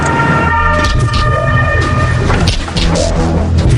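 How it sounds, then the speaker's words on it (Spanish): Loud wailing sirens from fire engines and ambulances rushing to the scene of the Concorde crash, overlapping rising and falling tones under a dense rumble of traffic and commotion. "docenas de coches de bomberos y ambulancias acuden a la escena"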